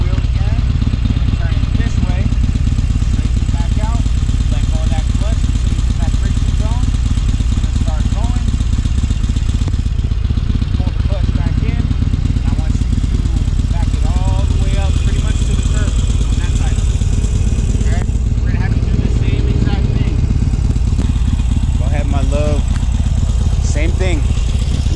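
A motorcycle of roughly 485 pounds idles steadily and loudly throughout, with a rider practising slow speed maneuvers in the friction zone while people talk over the constant engine drone.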